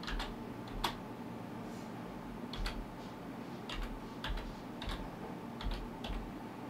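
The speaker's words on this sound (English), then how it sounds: "click Start and then type in" Scattered keystrokes on a computer keyboard tap quietly and unevenly, in short clusters separated by brief pauses, with no other sound over them.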